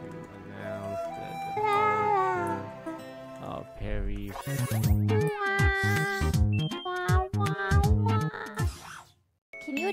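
A cat meows repeatedly, drawn-out wavering cries, then quicker, louder yowls near the mic, mixed with speech and music in the background.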